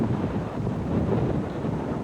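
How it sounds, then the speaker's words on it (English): Loud, roaring hurricane wind, Hurricane Opal coming ashore with gusts up to 144 mph, buffets the microphone continuously, a dense rumbling rush with no pauses and no voices. "This is what it's like as a hurricane blows ashore."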